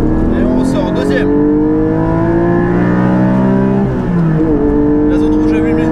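A Porsche 718 GT4 with an Akrapovic exhaust accelerates hard on the Spa-Francorchamps circuit, its loud engine note climbing steadily through the revs, dipping briefly at a gear change, then pulling on again from close by.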